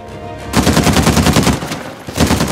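Automatic weapon fire in the video game Uncharted 4 rattles off in fast, loud, closely spaced shots, a sustained burst with a short break before another volley.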